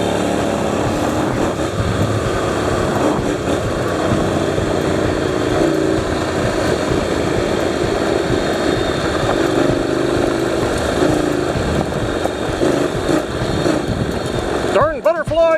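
A Honda NC700X motorcycle engine accelerating under throttle, a steady loud drone with wind rush that holds for the whole stretch, close up, ending in a brief scrape or rustle.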